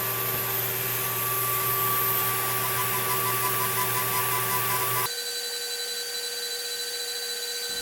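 An Atomstack A30 Pro laser engraver burns a test circle into wood, giving off a steady electronic whine with constant tonal hums and fan noise that drops to a quieter, thinner drone partway through.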